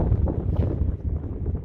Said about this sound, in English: Apologies for the wind, it is quite windy where I'm stood.